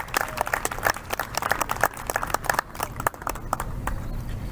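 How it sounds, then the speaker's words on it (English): Audience applauding trophy winners at the Guernsey County Fair opening ceremony, a dense burst of many hands clapping that holds steady and tapers slightly toward the end. "give one more round of applause for all our trophy winners for their outstanding work this year"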